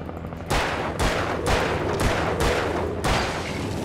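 Gunfire in the video game Alan Wake, with six loud, evenly spaced shots about half a second apart, each trailing into a short decay.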